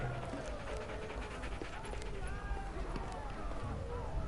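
A dog in the Telltale Game of Thrones video game pants in quick, rhythmic breaths with brief whimpers, mixed with busy background game sounds.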